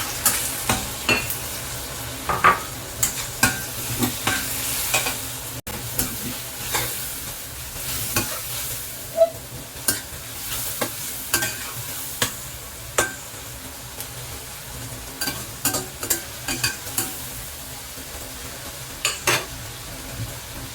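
Tomatoes are sautéed in a pan for a mung bean dish, and the steady frying sizzle is broken by frequent knocks and scrapes of a utensil stirring against the pan.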